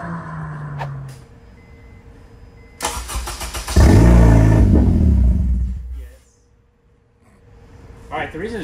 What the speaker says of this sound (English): So fires up and then dies almost immediately because the pump's turned off.